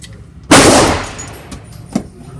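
A single sharp, loud shot from a Smith and Wesson M27-9 .357 Magnum revolver at a shooting range, ringing out and decaying over a second, followed by a fainter distant report.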